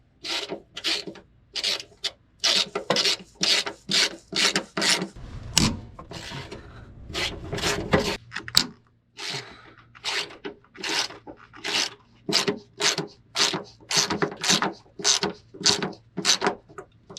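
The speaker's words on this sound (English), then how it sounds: "We're gonna loosen these 14s on the bottom." A ratchet loosens 14 mm bolts on the engine mounts of a Honda Element. It gives close, rhythmic bursts of rapid clicking in a steady back-and-forth pattern, with a brief rougher scraping stretch partway through and no talking.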